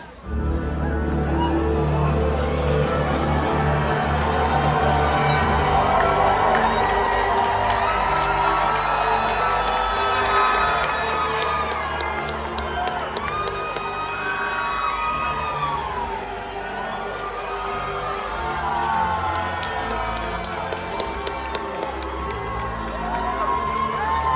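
Arena crowd at a Medieval Times joust show cheering, whooping and shouting continuously, with children's high voices among the roar, loud and close throughout, easing slightly before swelling again.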